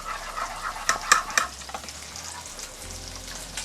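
Meatballs are stirred in a large frying pan with an upside-down spoon, giving a few close scraping clinks of the spoon early on over a soft, steady sizzle of frying.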